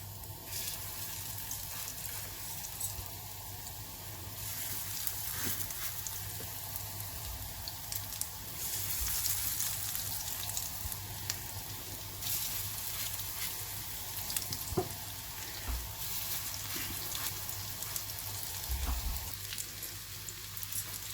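Potato cutlets (aloo tikki) frying in oil in a pan over low to medium flame, giving a steady, fairly quiet sizzle that continues unbroken with only a few faint knocks.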